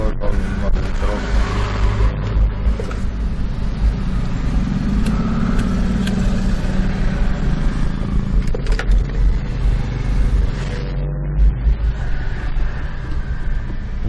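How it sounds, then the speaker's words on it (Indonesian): Steady road traffic of cars and trucks on a street in Makassar, Indonesia, with a constant rumbling drone of engines and tyres close by and no gaps throughout. "Banyak mobil truk."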